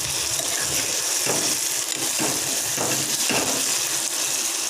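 Tomatoes fry in a wok that wobbles on the stove, making a loud, steady sizzle with a few scraping stirs and knocks close by.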